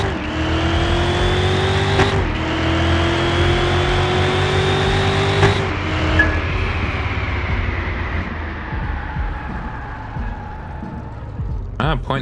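An engine revs and accelerates in Car Mechanic Simulator, fitted with all performance parts, during a timed acceleration run from a standstill with the handbrake on. The drone climbs steadily and shifts several times, loud and continuous, with a voice talking over it.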